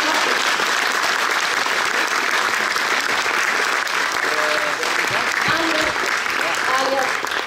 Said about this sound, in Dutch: Groot applaus.